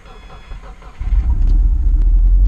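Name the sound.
Subaru car engine cold starting on E85 fuel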